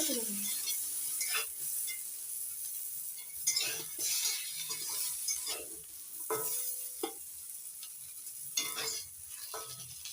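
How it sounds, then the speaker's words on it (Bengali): Eggplant pieces sizzle steadily in hot oil with salt and turmeric, while repeated stirring scrapes and taps against the pan, close and moderately loud with no talk. "বেগুনগুলো উল্টে পাল্টে লাল করে ভেজে নিতে"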